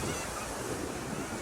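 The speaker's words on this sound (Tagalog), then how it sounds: "Grabe yung ngayon ang alon." Strong surf breaks continuously on Boracay's White Beach during habagat season, a loud, steady broadband roar of waves mixed with gusty wind buffeting the microphone, with no voices.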